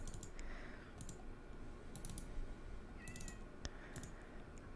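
Game cat from Minecraft meowing a few times in short, clear calls over a steady background of soft clicking and tapping, fairly close and moderately quiet.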